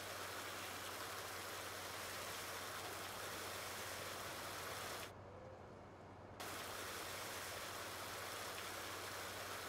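Pressure washer spray on a tractor in Farming Simulator 19, a loud continuous broadband rush with a low engine hum underneath, cutting out for about a second before resuming.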